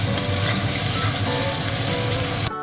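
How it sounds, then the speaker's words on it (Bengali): Vegetables, likely onions, sizzling and frying in oil in a cooking pot for a mushroom dish, a steady loud hiss and crackle that continues without pause, then cuts off abruptly at the end. "ভাজা করছি।"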